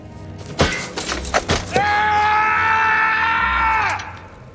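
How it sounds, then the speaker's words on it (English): A man screams in anguish after kicking a helmet in a film scene, a few sharp impacts and grunts followed by one long, loud sustained cry that fades out. "You know that scene where Aragorn kicks a helmet and screams in anguish?"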